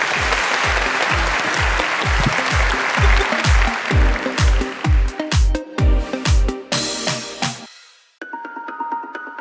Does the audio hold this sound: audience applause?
yes